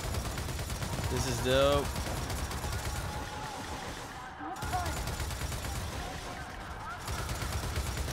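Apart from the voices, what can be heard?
gunfire in video game Gears of War 4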